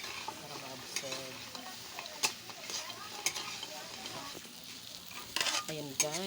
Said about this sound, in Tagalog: halo-haloin natin maigi para ma-absorb yung tokwa at saka hotdog